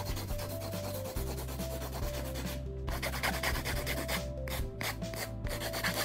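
Steady back-and-forth rasping of a hand file on acrylic nail tips, continuous and close, over a low background hum.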